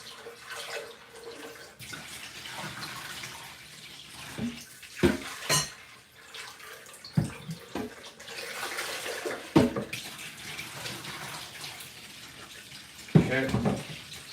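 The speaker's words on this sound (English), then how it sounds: "then I'm going to rinse it with the Arrowhead water that I have" Buckwheat being rinsed with bottled spring water in a kitchen, with continuous faint splashing and trickling broken by several sharp clinks and knocks of dishes and utensils.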